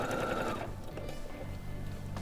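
A sewing machine runs steadily, stitching all the way around the seam of a bucket hat with a narrow presser foot; the whirring is continuous, fairly loud and close, with no talk over it.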